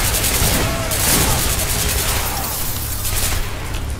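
Gunfire in the video game Hatred, loud booming shots and rapid bursts layered over a continuous rumble, with a voice talking faintly underneath.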